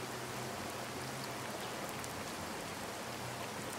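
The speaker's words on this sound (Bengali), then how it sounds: "বের হতেই দেখলাম বৃষ্টি শুরু হয়ে গেছে" Steady rain falling outdoors in Srimangal, a soft continuous hiss of drops on surfaces, fairly faint and even throughout with no voices.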